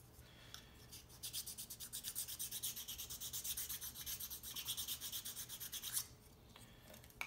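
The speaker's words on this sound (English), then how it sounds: "I do need to wax sand this surface and this surface." Sandpaper is worked back and forth over the flat surface of a wooden UGears Wolf-01 handgun puzzle piece, giving a quick, even run of rasping strokes for several seconds before it stops, with no voices.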